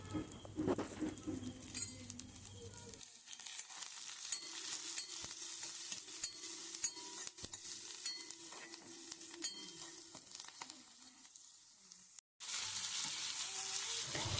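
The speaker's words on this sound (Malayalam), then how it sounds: "ആ മഞ്ഞൾപ്പൊടിയുടെ കുത്തൊക്കെ ഒന്ന് മാറുന്നത് വരെ അതൊന്ന് ഇളക്കി കൊടുക്കുക" Turmeric powder stirred as it fries in a hot pan with oil, a steady sizzle with light scraping and patter from the spoon, loud and close throughout.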